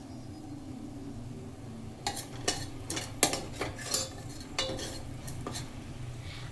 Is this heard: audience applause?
no